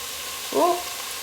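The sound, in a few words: vegetables stir frying in a pan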